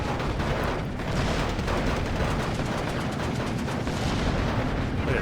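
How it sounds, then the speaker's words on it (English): Bombing in the Steel Division 2 strategy game: a dense, continuous rumble of explosions and battlefield fire rolls on steadily at a distance, with no let-up. "This guy's bombing his own troops, right?"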